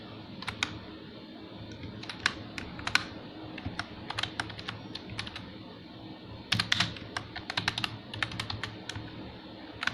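Rapid, uneven clatter of keys on a computer keyboard while Python code is typed, with bursts and short pauses, close and clear over a low room hum.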